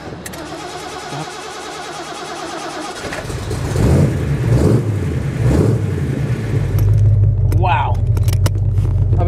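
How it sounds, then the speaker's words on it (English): A Ford Cleveland V8 in a 1972 De Tomaso Pantera starts up and settles into a loud, deep, rumbling idle with a few throttle blips, close by, with a brief exclamation from a person near the end. "the interesting part about the Cleveland is that it's got that very unique sound"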